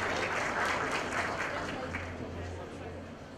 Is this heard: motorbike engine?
no